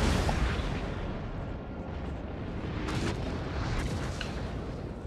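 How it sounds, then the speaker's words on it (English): Artillery fires in Napoleon Total War, a steady roar of distant booms and rumbling blasts spread over several seconds, with a few sharper cracks standing out. No voices. "Yeah, they're artillery firing at me."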